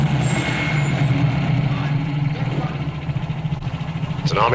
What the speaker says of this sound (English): It's an army truck.